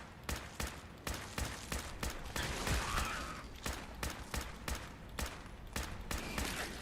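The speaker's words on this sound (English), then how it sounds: "Terrible shooting." Rapid gunfire in the video game Fallout 4, a string of sharp, evenly spaced shots roughly every half second, some in quick pairs, fairly close and alone without talk.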